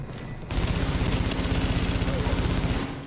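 Rapid automatic gunfire from a weapon in the video game The Division, a dense steady burst of shots lasting a few seconds, loud and close with game ambience before and after.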